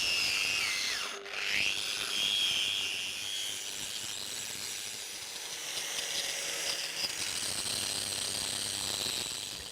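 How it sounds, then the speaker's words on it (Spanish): A continuous high grinding whine of a diamond sanding disc on carving stone, dipping briefly near the start, then steady and moderately loud throughout. "Actualmente lo procedemos a hacer con una lija diamantada"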